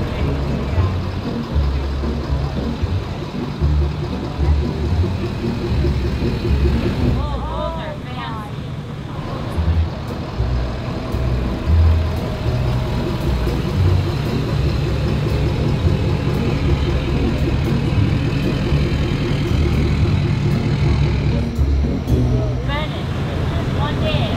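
A fake Lamborghini-bodied golf cart creeps through a very tight spot during an unload, its motor a steady low hum throughout with people talking nearby over it.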